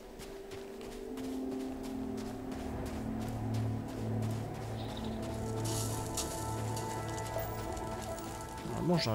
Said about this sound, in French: Arrête de me dire qu'il neige alors qu'il pleut.